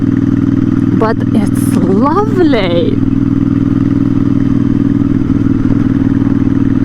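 A custom Royal Enfield Interceptor 650 rumbles steadily at a loud, close, even idle while someone talks briefly over it.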